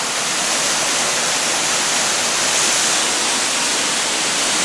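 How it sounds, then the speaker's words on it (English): Water streams over mossy rocks at a waterfall on a trail of hidden waterfalls, a loud, dense, unbroken rush heard up close with no voices. "as the water streams over"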